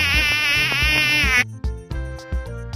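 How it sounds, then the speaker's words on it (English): A mosquito gives a loud, close, steady high-pitched whine for about a second and a half, then it stops and a soft musical backing carries on alone. "Mosquito."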